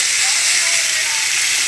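Potatoes sizzling in hot oil in a wok, a close, loud, steady hiss that carries evenly through the brief moment.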